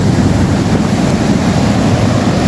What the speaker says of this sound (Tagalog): dahil malakas ang alon